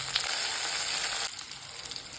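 Ripe bitter gourd sautés in sesame oil with onions, garlic and tomato, a steady close sizzle that drops abruptly to a quieter frying crackle partway through.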